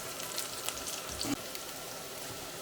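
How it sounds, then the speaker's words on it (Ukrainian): Onion frying in a pan while being stirred, a faint, even sizzling hiss with a single soft scrape partway through, quiet and with no one talking. "Цибулька підрумянилась, додаємо моркву, будемо знову помішувати"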